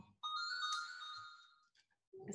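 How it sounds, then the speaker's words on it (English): A telephone ringtone sounds loud and close as a sustained electronic melodic ring lasting over a second, then fades, followed by a brief further ring tone at the end, with no talk over it. "sorry, my telephone is ringing"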